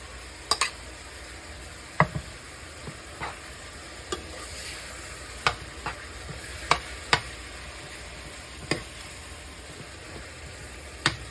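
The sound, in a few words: potatoes added and stirred into frying hamburger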